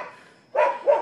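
A neighbor's dog barks twice in quick succession, clear and moderately close, after a brief quiet pause.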